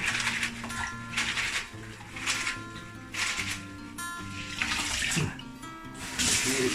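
Tap water runs over a kitchen hood filter being rinsed in a sink, a close splashing flow that surges and eases in rough pulses, with light metal clatter.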